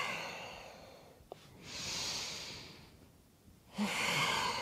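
Slow, bellows-like yoga breaths taken through the nose in the manner of fire breath, long soft airy inhales and exhales rising and falling in a steady cycle, close and quiet, with no talking.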